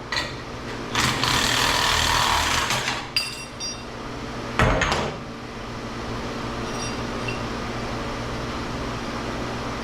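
A large hammer strikes metal scrap wedged in a big socket to break loose copper from steel and cast aluminum, giving a few sharp metallic impacts over steady workshop background noise.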